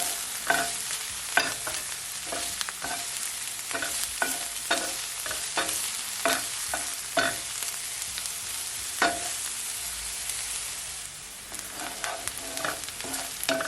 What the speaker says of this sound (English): So now I'm gonna add my garlic